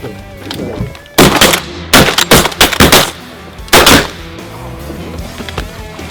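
Several loud, close shotgun blasts ring out in quick bursts during a Louisiana mallard duck hunt over shallow water on a foggy morning, with a quieter stretch between volleys.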